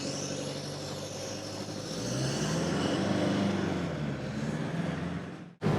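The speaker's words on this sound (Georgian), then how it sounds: "ეს ტრაქშენის ხმებია, რომ მუშაობს თან." A new Chinese car's traction system works while driving, a steady low mechanical hum and whir with road and engine drone that swells midway, then cuts off abruptly near the end.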